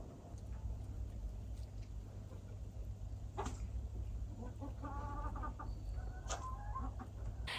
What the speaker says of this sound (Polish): wszystkie kury przenieść teraz na zimę do większego kurnika